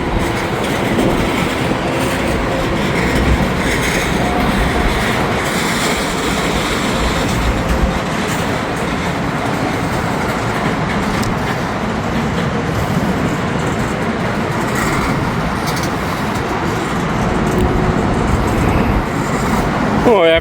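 A freight train of empty cars and containers rumbles steadily past in Kentucky, with a continuous loud roar and faint clickety-clack of wheels for the whole stretch, no talk.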